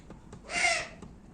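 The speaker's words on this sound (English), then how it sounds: "Asian brown wood owl." An Asian brown wood owl gives a single hoarse, drawn-out call at close range, rising and fading over about half a second, with faint soft taps before and after.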